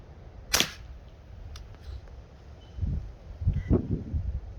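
A Remington Warhawk rifle fires a single sharp, close report near the start, then quieter rustling and handling noises follow as the shooter moves outdoors.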